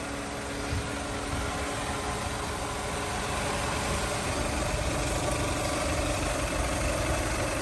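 A 2000 Toyota Camry LE engine runs at raised RPM with its auxiliary cooling fans whirring, forming a steady, loud, dense mechanical drone and rush that holds even throughout without voices.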